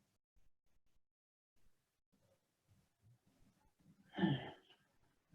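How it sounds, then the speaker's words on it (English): During a qigong breathing exercise, one person draws a single deep, audible inhale near the end, preceded by faint, sparse breath noises in an otherwise quiet room. "Breathing in."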